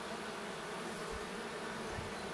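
Honey bees buzzing steadily inside an opened beehive during queen rearing, a dense continuous hum close by with no voices.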